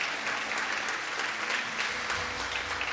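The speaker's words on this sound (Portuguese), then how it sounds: "Pode aplaudir." Church congregation applauding, a loud and steady wash of clapping heard up close with no talk over it.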